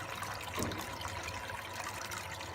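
Water trickles and splashes steadily through a small, self-contained recirculating gold prospecting rig at Reedy Creek, a continuous close-up wash with no talking.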